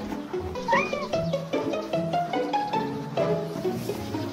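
A stray street cat meows several times in rising, wavering calls, close by, mixed with a faint murmur of voices and background noise around it.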